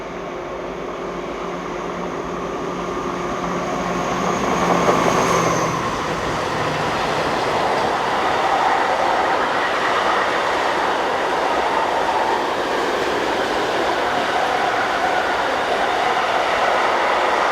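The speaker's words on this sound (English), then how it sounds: "this unidentified Vossloh G1208 diesel loco working a" A Vossloh G1208 diesel locomotive hauls a northbound engineers train along a busy German mainline between Fulda and Bad Hersfeld, passing below a road overbridge; a steady, loud rumble and rolling wheel noise grow and then hold, with a brief whine early on.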